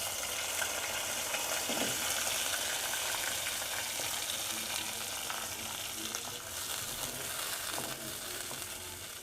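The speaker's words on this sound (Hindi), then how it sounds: "अब इसके अंदर हम प्याज डालते हैं।" Onions sizzle in hot oil in a pan while chicken kofta is cooked, a steady crackling hiss with occasional stirring scrapes; continuous and moderately close, with no voices.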